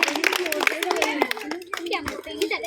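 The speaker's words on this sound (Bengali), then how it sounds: "আগে একবার সকলে জোরে হাততালি" An audience at a village children's prize contest claps loudly in quick, dense bursts, with children's voices and talk mixed in throughout.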